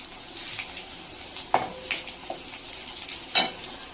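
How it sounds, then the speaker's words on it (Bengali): Four potatoes sizzle in hot oil in a pan while a utensil stirs them, a continuous fry broken by a few sharp scrapes and knocks against the metal. "আমি এবারে এই আলু চারটে দিয়ে দেবো ভাজা।"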